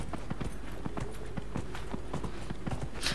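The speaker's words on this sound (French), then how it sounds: "Alors, on va prendre notre cheval." Horse hooves clip-clop at a steady walking pace in the video game Dragon Age Inquisition, a quick even series of soft thuds over faint ambient background, moderately quiet with no talking.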